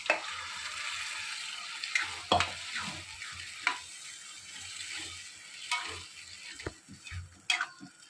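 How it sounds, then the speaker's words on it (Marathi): Cooked moth beans (matki) and their water go into a pan of oil-separated spicy masala for Kolhapuri misal, giving a steady sizzle broken by spoon scrapes and clunks against the pan. "आता आपण इथे शिजवलेली मटकी घालूया पाण्यासकट."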